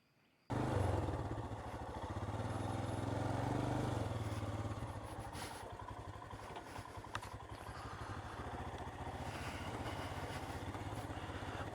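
A Royal Enfield Himalayan motorcycle starting and riding off, its single engine kicking in with a steady mid-pitched drone that rises briefly, then settles into a continuous running rumble close to the listener.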